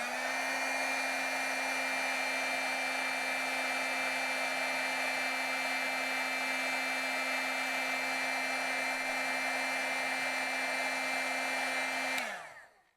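A heat tool for embossing stamped words blows with a steady, loud whirring hum at close range, then cuts off and winds down at the end.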